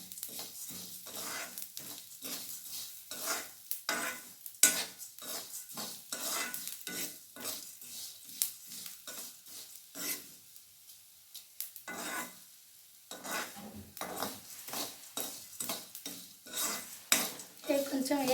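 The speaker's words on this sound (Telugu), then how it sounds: "ధనియాలు, జీలకర్ర లాస్ట్లో వేసాం కదా, అవి కొంచెం వేగాలి." Cumin, coriander and fenugreek seeds being dry-roasted in a pan while a spoon stirs and scrapes, giving soft rattling, clinking and faint sizzling at close range, with brief pauses between stirs and no talking.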